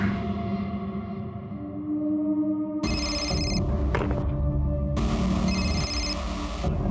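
A phone rings repeatedly, a loud electronic trilling tone in two bursts over a droning music bed.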